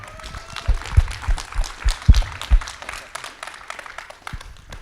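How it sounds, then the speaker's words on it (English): Conference audience applauds two guests at a summit Q&A, a warm burst of many hands with scattered louder claps over a few seconds, close and steady. "Everybody give a warm round of applause to Berner and Rachmany."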